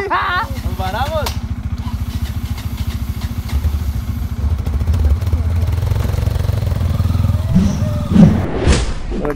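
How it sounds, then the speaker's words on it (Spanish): A motorcycle engine revs and labors steadily while climbing a difficult uphill dirt road on Cerro de Quinini in Colombia, loud and close, with brief shouted voices at the start and a thump near the end. "llegamos a una zona donde está un poquito difícil la subida en moto"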